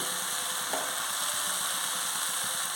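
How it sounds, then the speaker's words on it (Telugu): Grated jaggery stirred into yellow pumpkin cooking in a pan, giving a steady, even sizzle with faint stirring underneath and no voices. "దాని తురుము పెట్టుకున్న బెల్లాన్ని దీంట్లో యాడ్ చేద్దాం బెల్లం చేసేసి ఈ మొక్కలన్నీ తిప్పుదామండి ఒకసారి"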